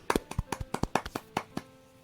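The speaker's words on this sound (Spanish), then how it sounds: "Un aplauso para Bastián." A small audience claps for a guest named Bastián on a podcast, about a dozen sharp, irregular claps over two seconds, near and fairly faint, with no talking over them.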